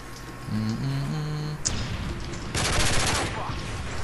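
Rapid gunfire bursts from a Call of Duty: Modern Warfare 3 match, firing in dense, loud volleys over the second half with a low tonal hum and game sounds earlier.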